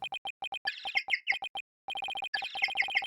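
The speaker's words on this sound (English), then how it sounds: "That's my ringtone." A bird-chirp phone ringtone from the Ace Attorney Dual Destinies video game, bursts of bright synthetic tweets and trills repeating in a rhythmic pattern with a brief pause midway, clean and close.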